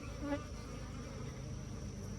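Honeybees buzz steadily inside an open hive while frames of comb are handled, a continuous close drone of many wings with a faint rise early on and no talk.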